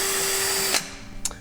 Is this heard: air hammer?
yes